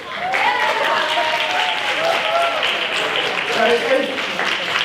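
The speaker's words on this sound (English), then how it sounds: "Big round of applause for the Gin Group." An audience at a startup pitch session gives a big round of applause, dense and sustained clapping at close range, with a voice talking faintly over it.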